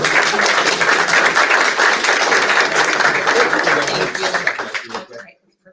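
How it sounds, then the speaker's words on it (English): Loud, dense applause and clapping from an audience at a school district board meeting, sustained for several seconds before tapering off and stopping abruptly near the end. "So if we could just take like 5 seconds to give them a little round of applause and thank you for their work"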